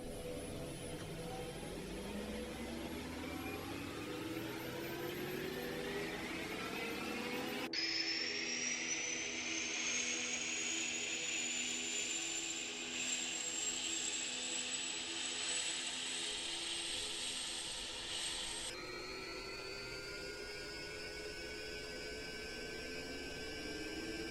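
A simulated Bell 412 helicopter engine spools up in X-Plane 11, a steady rising turbine whine with layered harmonic tones that climbs in pitch, continuous and loud with no talking.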